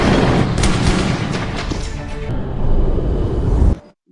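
A shootout in an action film about police chasing bank robbers, with a burst of heavy gunfire and booming shots layered over a loud, dense rumble that cuts off abruptly near the end.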